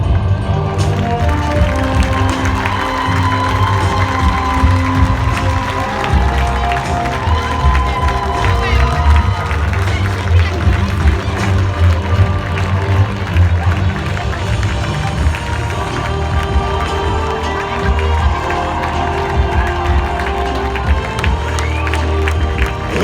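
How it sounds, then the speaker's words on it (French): A large crowd at a French club elite show jumping championship prize ceremony applauds and cheers continuously, with clapping, shouts and whistles filling the space for over twenty seconds. "Vos applaudissements."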